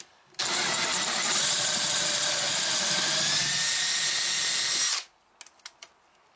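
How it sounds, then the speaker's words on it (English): A small plug cutter in a drill bores plugs out of a wooden board, a loud steady whine lasting about four and a half seconds before stopping abruptly, followed by a few faint knocks. "I'm using the small plug cutter"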